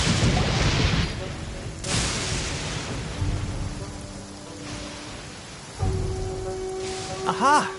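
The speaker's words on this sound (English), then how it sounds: "It's raining again." Steady rain hisses throughout in Genshin Impact, with a deep rumble and a few low booms, plus brief game tonal chimes near the end.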